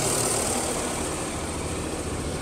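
A small tractor engine drones steadily, a continuous low rumble with a broad hiss holding even throughout, sounding fairly near.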